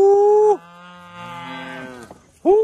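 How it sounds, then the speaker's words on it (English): Several cows moo loudly and up close on a farm, long drawn-out lowing calls that overlap, with a fresh bellow starting at the end. "Woo, cows. Come on, girls."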